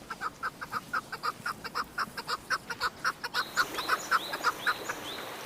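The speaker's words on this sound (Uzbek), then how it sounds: "Kaklik. Sodda qush" A chukar partridge calls in a rapid, rhythmic series of clucking notes that build steadily, with fainter bird calls joining toward the end.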